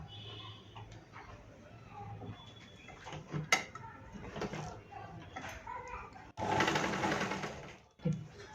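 Stitches run along crossed blouse strips laid one over the other on a sewing machine, heard as short mechanical bursts and ticking amid handling noise, with a louder stretch of stitching near the end.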